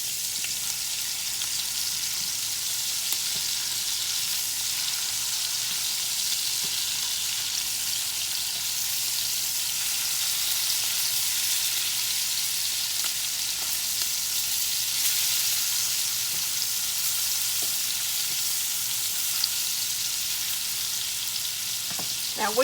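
Sausages fry in a pan in a long, even, close sizzle, a steady crackling hiss that barely changes as they are turned.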